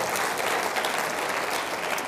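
Audience applause during an inspirational talk on inclusivity and diversity: steady, dense clapping from a full room, loud and continuous throughout with no voices.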